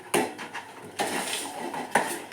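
Thick finger millet dough being stirred in a pot over a low flame, with a few scraping, clattering strokes of a utensil against the pot at roughly one-second intervals, close by.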